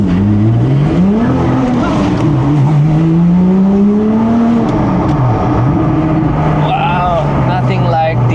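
A Porsche GT3 with a 4.3 liter naturally aspirated engine revs and pulls away, its pitch climbing and falling through loud, close sweeps, with someone talking over it.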